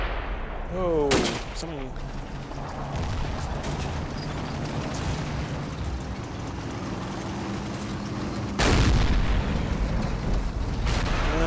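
In the wargame Combat Mission Red Thunder, gunshots and heavy booms of artillery crack out amid a rumbling battle din, with a brief spoken remark early on and another loud blast near the end.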